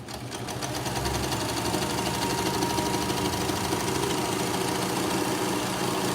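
A serger stitches a rolled hem along silk fabric, running at a steady, fast mechanical buzz with dense rhythmic needle chatter from start to finish, near and loud, with no talking.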